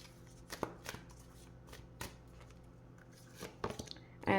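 Tarot cards being shuffled by hand, several short riffling bursts spaced irregularly with quiet gaps between, close and fairly soft, with a louder rustle at the end.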